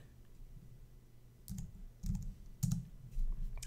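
Keystrokes on a computer keyboard while values are entered into LED screen mapping software, a few soft clustered taps and clicks with pauses between them, close and quiet, with no talk.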